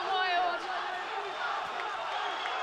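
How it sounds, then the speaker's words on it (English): A kickboxing arena crowd at an Enfusion Live event in The Hague keeps up a dense, continuous roar of cheering beneath a commentator's voice. "Crowd still going wild."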